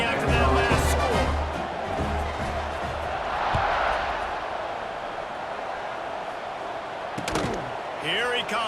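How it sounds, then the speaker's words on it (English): A stadium crowd buzzes with a broad, steady roar in EA Sports College Football 26 after a touchdown. Heavy thumps come near the start, a commentator talks over the noise, and sharp clatters follow near the end. "this crowd is buzzing after that last score"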